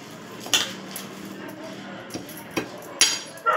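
Moong dal bhel with cucumber and black salt being mixed in a bowl, giving a few sharp utensil clinks and scrapes against the dish spread over the clip, with soft background noise between them.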